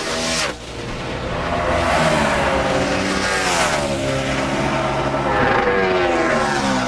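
A NASCAR Sprint Cup stock car roars through a qualifying lap, its engine a loud, sustained drone that rises in pitch as it accelerates, with no talking heard.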